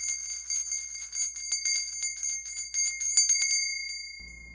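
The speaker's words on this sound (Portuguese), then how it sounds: "balança um sino dourado" A golden bell shaken steadily, a bright metallic ringing with rapid repeated strikes and sustained tones that carry on for about four seconds before the shaking stops and the ring cuts off.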